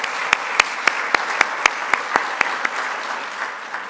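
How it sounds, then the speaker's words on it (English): A small crowd applauds culinary arts students at a community campaign event, a dozen or so distinct sharp claps standing out in a steady rhythm over a softer wash of clapping that fades toward the end. "I'd like to give them a round of applause as well"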